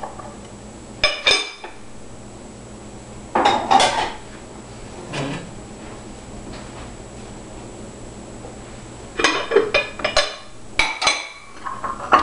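Bowls and dishes are stacked in a kitchen, giving several separate bursts of clinking ceramic and clattering contact with quiet pauses between them and no speech.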